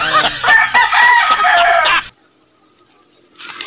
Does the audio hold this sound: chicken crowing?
yes